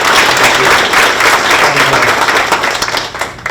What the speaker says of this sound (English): Can we give Mike a big round of applause?